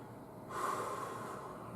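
A single long, forceful exhale during a deep breathing exercise, a steady breathy rush that starts abruptly and holds at an even level, close and alone with no talking.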